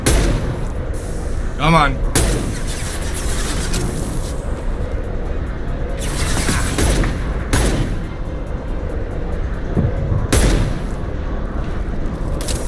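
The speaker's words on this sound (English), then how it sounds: "Who says you can't snipe with a pistol?" Pistol shots ring out in the video game Mass Effect 2, several sharp cracks spaced a few seconds apart over a dense, loud game soundscape, with a voice talking briefly.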